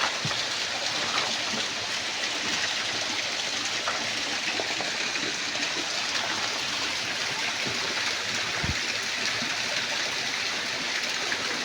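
Water from a small waterfall rushes and splashes continuously, a steady broadband roar close by with nobody talking.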